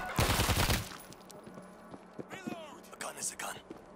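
A rapid burst of automatic gunfire from the video game World War Z: Aftermath opens loud and dense, then gives way to quieter scattered sounds and soft voices.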